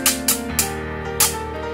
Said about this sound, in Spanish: Esta es la guacharaca.